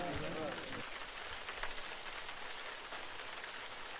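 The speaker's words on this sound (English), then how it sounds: "Does the rain ever end in this bloody kingdom?" Steady rain pours down in the Shattered Crown game, a dense continuous hiss that runs the whole time, with a brief low voice or sound near the start.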